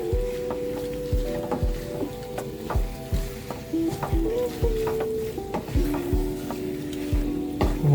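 A spoon stirs chicken curry masala in a hot pan, with soft scraping strokes and repeated knocks against the metal over a low sizzle. A faint voice sounds in the background.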